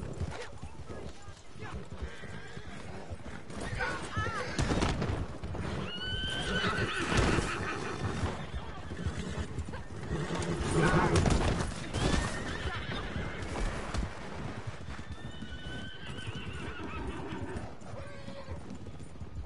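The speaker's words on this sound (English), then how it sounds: "Everyone get your horses out, guys." Horses in Red Dead Online whinny several times over steady clip-clopping hooves as a group rides out together, with players chatting throughout.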